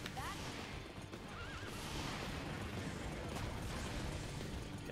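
A horse neighs and gallops in a video game, a whinny sounding early over quick clip-clopping hoofbeats and busy game noise, with a voice talking over it.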